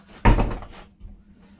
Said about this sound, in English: Let's just shut this door.